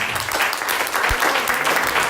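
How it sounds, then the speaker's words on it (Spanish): A church congregation bursts into enthusiastic applause during a sermon, a loud, close, dense burst of clapping that lasts only a couple of seconds. "Vamos a darle un aplauso con ganas"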